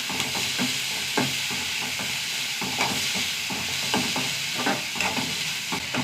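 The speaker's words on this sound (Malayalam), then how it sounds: "ഒരു 2 കറിവേപ്പില, സവാള ഒന്ന് വഴണ്ട് വരട്ടെ." Sliced onion and a couple of curry leaves saute in hot oil, a continuous sizzle broken by regular scraping stir strokes, close and fairly loud with no talking.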